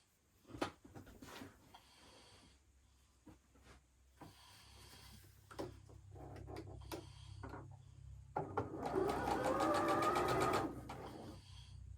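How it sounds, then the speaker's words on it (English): A sewing machine running a quarter inch seam while piecing a Civil War sampler quilt block, heard close up. Short handling clicks and bumps come first, then a steady, fast whirring stitch for about two seconds near the end. "I'm going to go ahead and run a 1/4 inch seam down"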